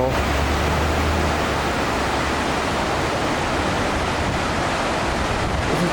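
Firehole River in Yellowstone running high with snowmelt and rain, a loud, steady, broadband rush of water heard up close with no break.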